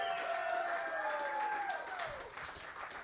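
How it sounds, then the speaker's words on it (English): Faint, distant crowd applause for Big Grizzly Dan and AJ Eno at a Packers clubhouse live event forms a soft continuous patter, with a voice speaking over it. "How about a big round of applause for Big Grizzly Dan over there and AJ Eno"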